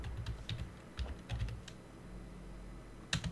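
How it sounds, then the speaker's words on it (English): Typing on a computer keyboard: quick, irregular clusters of close key clicks with short pauses between them and a sharper burst near the end, alone with no voices. "You just have to type in like that"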